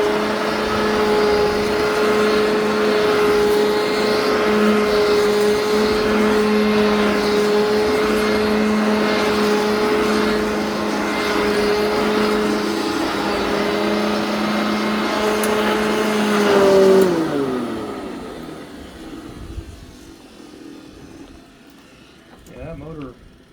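A Eureka upright vacuum running without its belt drones loudly with a steady whining hum for most of the clip, then powers down and winds to a stop.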